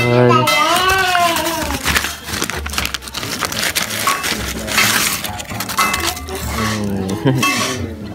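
Plates, pots and cutlery clatter and clink in a kitchen sink during dishwashing, with busy, close rattling throughout and a voice speaking over the clinking at the start and again near the end.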